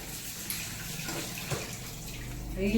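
Steady rushing of water pouring from a tap, continuous and fairly close, with a faint clink and a slight swell toward the end.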